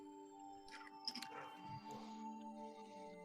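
A dog in a room gives a few soft whines and yips, faint and intermittent over a steady electrical hum and low background murmur.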